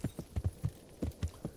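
Horse hooves clip-clop at a steady walking rhythm in the video game Kingdom Come: Deliverance, close and fairly quiet, with about eight distinct thudding steps and no talk.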